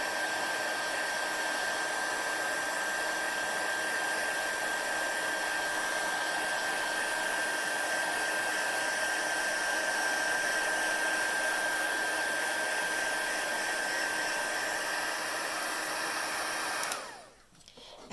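A heat tool blows hot air for embossing, a loud, steady whirring hiss with a thin constant whine that runs unbroken for about seventeen seconds before switching off abruptly.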